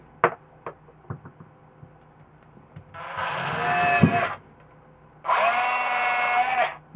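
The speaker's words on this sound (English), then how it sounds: "take your drill with a quarter inch drill bit and drill a hole as close to the center of your body cap" Two sustained bursts of an electric drill with a quarter-inch bit whirring at high speed through a plastic camera body cap, close and loud, preceded by a few light taps and clicks.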